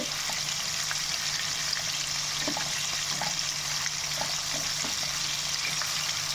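Large prawns fry in a very hot pan for a prawn pickle, giving a steady, dense sizzle with scattered small pops and crackles throughout, close and continuous with no talking.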